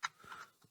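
Brief burst of typing on a computer keyboard: a sharp first keystroke followed by a few lighter, quieter taps, close and isolated.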